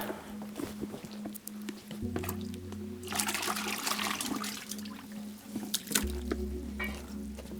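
Tap water poured into a container holding vendace, running and splashing steadily throughout, close and moderately loud, with a low hum beneath it and no talking.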